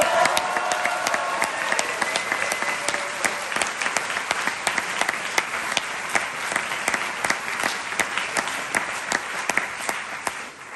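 Sustained applause from a crowd at a Reconquête rally, dense sharp claps going on steadily for about ten seconds, fairly loud and close, with no speech over it.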